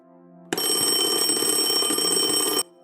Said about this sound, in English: Baelor awoke suddenly at the sound of her alarm clock.